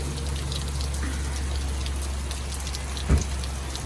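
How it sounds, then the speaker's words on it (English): Steady rain patters on an outdoor surface at a blacksmith farm, a constant close hiss with a low hum beneath and one brief thump near the end. "It's raining."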